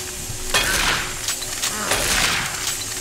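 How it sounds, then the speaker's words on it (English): Shotgun blasts in Doom 3 BFG The Lost Mission: two or three loud, close booming shots with a broad crackling burst, spaced about a second apart over game ambience. "holy crap, this shotgun has a big spread"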